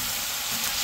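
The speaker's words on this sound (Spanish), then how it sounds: "ya la verdura se está empezando a dorar perfectamente. Y vamos a dejarla 5 minutos más para que se termine de freír." Vegetables frying in a pan for avocado salsa give a steady, close hiss of oil sizzle, brief and constant, with no voices over it.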